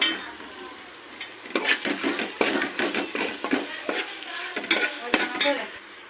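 Slit green chilies frying and being stirred into a red masala for a mutton dum semiya dish, with crackling sizzle and repeated scraping stirs that grow louder after a quiet start, with no talk.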